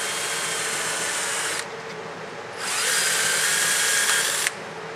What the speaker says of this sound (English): That drill is broken.